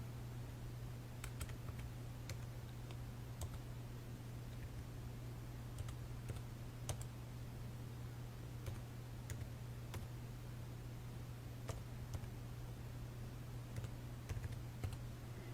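A computer keyboard being typed on as a debit or credit card number is entered: quick, irregular key clicks come in short bursts over a steady low electrical hum, quiet and close.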